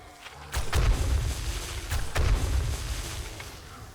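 Explosives go off during a horde night in 7 Days to Die with the Darkness Falls mod, a quick run of deep booming thuds, loud and close, with no speech.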